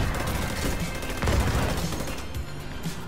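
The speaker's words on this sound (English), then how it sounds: "I shot this guy 3 times with my special weapon and he's not down" Special weapon firing in The Division 2 video game, a rapid string of heavy shots and blasts layered over battle noise, loud and continuous with a few harder impacts standing out.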